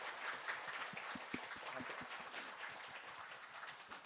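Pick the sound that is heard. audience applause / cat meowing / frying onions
audience applause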